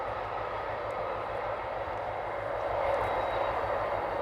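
A low, steady rumble of a heavy cargo freight train rolling past at a distance, droning evenly with a faint rise toward the end.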